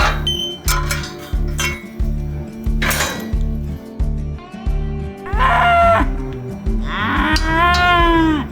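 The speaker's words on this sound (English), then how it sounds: "Wild cow." Cattle on a working ranch moo repeatedly and loudly up close, several long calls in sequence, with metallic clinks and rattling in the background and no talk.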